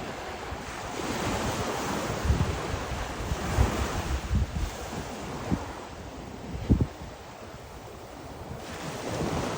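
Ocean surf rolls in at South Shore Kaanapali Beach in a steady wash of waves, with heavier crashes every few seconds and gusty wind buffeting the microphone throughout.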